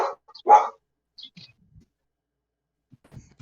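A person imitating a dog barking, giving a couple of short, close vocal barks, followed by quiet pauses and faint rustles.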